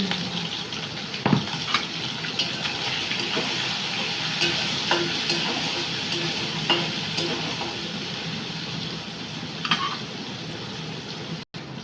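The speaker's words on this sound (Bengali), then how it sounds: "আমার চিংড়ি মাছগুলো ভাজা হয়ে গেছে" Steady crackling sizzle of shrimp frying in hot oil with a little turmeric, with occasional utensil scrapes and stirring knocks, close and continuous.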